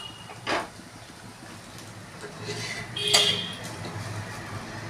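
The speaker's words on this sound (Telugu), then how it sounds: "కట్ చేసి చూపిస్తానండి." Utensils cut through an omelette chapati, giving a few light scrapes and clinks against a plate, with a sharper metallic clink near the end over a quiet room.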